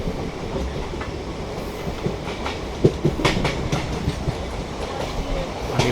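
India's first hydrogen train, the Namo Green Rail, runs between Sonipat and Jind with a steady rolling rumble and a scattering of clickety-clack wheel beats.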